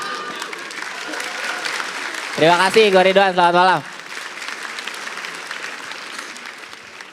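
Applause and cheering from a comedy show audience for stand-up comedian Ridwan, rising to a loud burst in the middle before fading, with someone speaking over the crowd.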